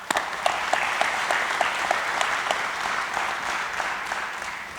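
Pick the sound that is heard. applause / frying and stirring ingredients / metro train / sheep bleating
applause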